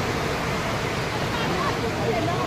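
Hot spring water at Gaurikund pours steadily into a bathing pool, making a continuous broadband rush that holds level throughout, close and fairly loud.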